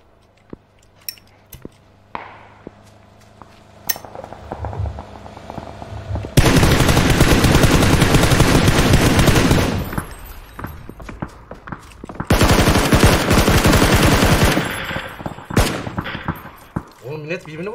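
Bursts of automatic gunfire crackle in a large PUBG video game battle, with scattered single shots early on, then two long sustained volleys of rapid fire in the middle and near the end.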